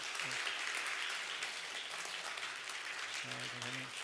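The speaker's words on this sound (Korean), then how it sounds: "우리 큰 박수로 마음을 담아서 박수 주시면 감사하겠습니다" Congregation applauding during a Sunday church service as graduation diplomas are presented, a steady wash of clapping that fills the whole stretch, with faint voices rising beneath it near the end.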